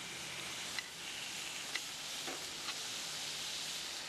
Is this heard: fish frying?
yes